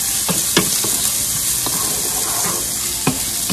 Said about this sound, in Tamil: நான் ஒரு ஆனியன் கட் பண்ணி வச்சுருக்கேன் இந்த மாதிரி லென்த் வைஸ். இதையும் போட்டு ஃப்ரை பண்ணிக்கலாம்.